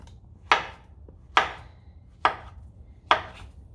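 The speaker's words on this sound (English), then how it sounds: "you can angle your knife and then just cut them up like that" Four evenly spaced knife chops through plantain onto a cutting board, crisp and close, each a sharp thud with a short tail.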